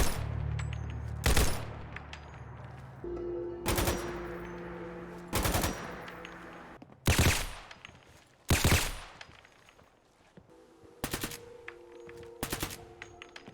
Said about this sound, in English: So now we have the mod AKM Complex Sound Replacer, and this is what it's going to sound like.